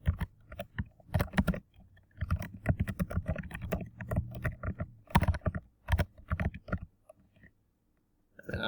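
Fingers type on a computer keyboard in bursts of quick, close, crisp key clicks, pausing briefly before a final few taps.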